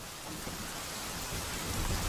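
Heavy rain pours steadily in a thunderstorm scene from a Hindi-dubbed film set in Bombay, a dense unbroken hiss with a low thunder rumble swelling toward the end, loud and close with no voices.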